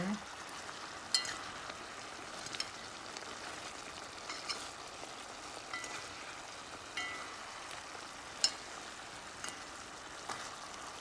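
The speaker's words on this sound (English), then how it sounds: "we're just gonna check on it and give it another stir" Jamaican brown stew chicken simmering in a pot as it gets stirred, a soft, fairly faint bubbling sizzle with scattered spoon clinks and scrapes.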